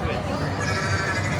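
Sheep bleating amid the crowd at Epic Universe theme park, a short bleat mixed into a busy hubbub of people chatting nearby.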